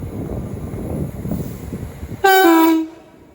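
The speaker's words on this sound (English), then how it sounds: "Soon to arrive in now with a 1714 London North Western Railway service from London Euston to Tring." A London Northwestern Railway Class 350 electric train approaches Watford Junction with a low rumble, then sounds one loud two-tone horn blast lasting under a second before fading.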